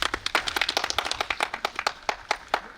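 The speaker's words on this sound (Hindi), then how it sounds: "तालियां बजा दो भैया सबसे।" Audience at a religious gathering with a guru at a cow shelter clapping together, a dense irregular patter of many hands close by, steady throughout the short stretch.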